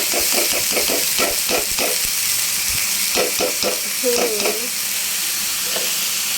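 Potatoes and spices fry in a hot pan with a steady sizzle, broken by repeated scraping stir strokes of a spatula, plus a brief tonal clink near the end.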